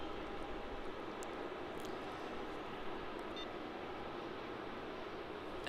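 An Air India Boeing 787-8 takes off at Melbourne Airport, a continuous distant jet roar with a hissing wash that stays even and moderately loud, with no one talking.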